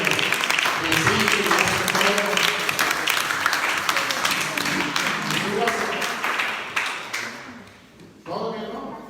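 A church congregation on its feet applauding, sustained dense clapping with scattered voices that gradually thins and fades out near the end.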